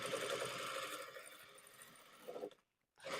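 Sewing machine running a back stitch across a lapped elastic waistband on a stretch straight skirt, a steady close motor whir that slows, stops briefly near the end, then starts again.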